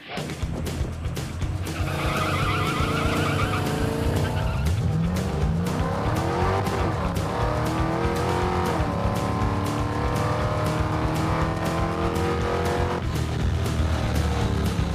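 Drag car launching hard on aired-down rear tires, a brief tire squeal as the rear spins before the engine pulls through a loud, sustained run of shifting, climbing revs.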